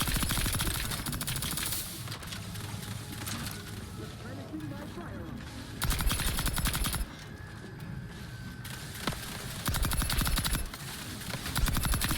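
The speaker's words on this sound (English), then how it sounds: "Heh, machine gun." Bursts of machine-gun fire in the video game Outer Worlds 2, several rapid rattling volleys of a second or so each, spaced apart over a quieter background, with a person talking between them.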